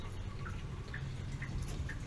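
Water drips and trickles from the drain of a water heater as the last of the tank empties, with small, faint drops falling at a slow, steady rhythm over a low background hum.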